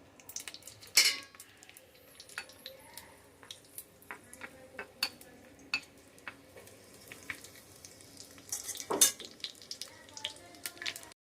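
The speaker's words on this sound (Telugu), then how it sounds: "ఇప్పుడు కొద్దిగా నెయ్యి వేసుకుందాం. దాంట్లోకి జస్ట్ ఒక చిన్న వెల్లుల్లి, 2 ఎండుమిర్చి వేసుకొని వేయించుకుందాం." Garlic and two dried red chillies fry in a little ghee for tomato dal, with crisp clinks and taps of a utensil against the pan over a faint sizzle, including a couple of louder scrapes.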